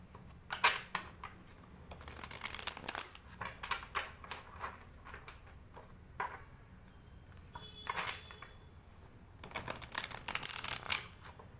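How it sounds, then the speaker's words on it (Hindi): Tarot cards are shuffled by hand in soft, papery riffles and taps that come in short irregular bursts, fairly quiet and close, with no talking. "जब तक मैं शफलिंग कर रही हूँ"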